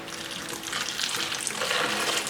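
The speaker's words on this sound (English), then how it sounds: "You're going to pour your Mojo all over it." Mojo marinade poured over pork, a soft continuous splashing and trickling of liquid that swells slightly as the pour goes on, close and fairly quiet.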